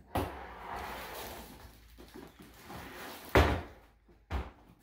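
A heavy-duty lockable Pneu-Dart X-Calibre waterproof case being turned around and opened, with shuffling handling noise and two solid clunks of the latches and lid, close by and moderately loud.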